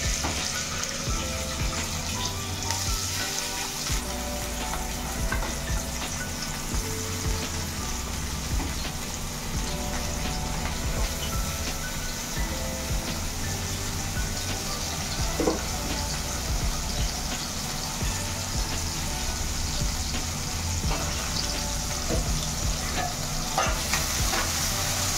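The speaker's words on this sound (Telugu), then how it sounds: "ఇప్పుడు ఉల్లిపాయలు పచ్చిమిరపకాయలు వేస్తున్నాను." Onions and green chillies fry in hot oil in a kadai, a loud steady sizzle and crackle running throughout with occasional stirring scrapes.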